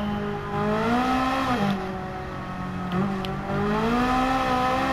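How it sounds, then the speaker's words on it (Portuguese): In Gran Turismo 7, a racing car engine hums and revs as a steady, loud drone whose pitch rises and dips through the gearshifts. "O som está diferente do carro."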